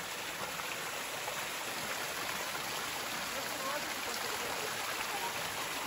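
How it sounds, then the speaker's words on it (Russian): A mountain waterfall near Oropa and the Rosazza tunnel roars steadily and broadband at close range, a constant wash of falling water with no breaks. "Водопад."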